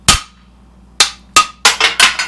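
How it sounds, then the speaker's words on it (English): Sharp metallic hammer blows ring out as a suspension bushing is knocked out, one, then two spaced strikes, followed by a quicker burst of three or four hits, loud and close. "Let's just smack it out with a hammer."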